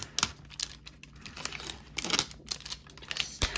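A single peel strip being pulled off an animal blind box package, giving a run of close crinkly, tearing crackles in short irregular bursts over a few seconds.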